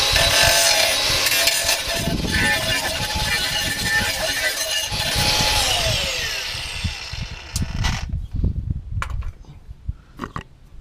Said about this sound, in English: All right, so I'm gonna grind all this junk off.